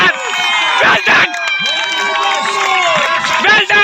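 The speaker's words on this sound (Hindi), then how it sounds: "हर तरफ तालियों का शोर" A crowd at a tape ball cricket tournament cheers, shouts and claps after a catch takes a wicket, with excited voices and whistling-like calls loud and close, a commentator talking over the noise.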